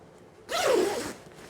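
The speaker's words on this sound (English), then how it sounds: "Let me zip it up for you to see how beautiful it is." A zipper on a garment is pulled closed in one quick, close, crisp rasping stroke lasting about half a second, alone in a quiet room.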